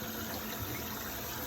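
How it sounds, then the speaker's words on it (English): A tap turned on by hand through a paper towel sends a steady, soft stream of water running into a sink, an even rushing wash with no voices. "now I am going to turn on the faucet with my paper towel in between my hand and the faucet"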